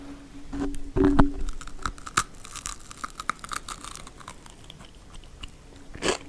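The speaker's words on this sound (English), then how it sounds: "Unless y'all really just want to hear me chewing on pizza." Someone chews pizza close to the microphone, with a few loud crunchy bites early on, then softer scattered mouth sounds and quiet crackles, and a last sharp bite near the end.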